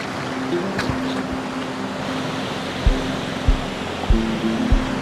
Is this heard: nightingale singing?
no